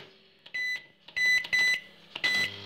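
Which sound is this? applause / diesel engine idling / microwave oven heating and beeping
microwave oven heating and beeping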